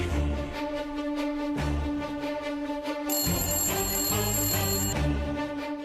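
A telephone rings repeatedly with no one answering, regular electronic ring bursts over a musical score, fairly loud and continuous.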